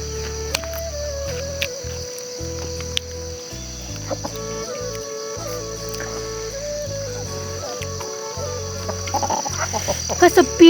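Chickens clucking and calling in a Nepali village yard, with soft repeated clucks over a steady insect-like hum and some rustling that grows busier near the end.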